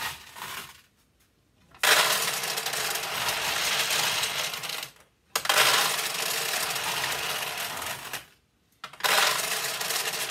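Balls pour into a vintage 1975 Nishijin Model B pachinko machine in three long, loud bursts of dense metallic clattering, separated by short quiet gaps, close and with no talking.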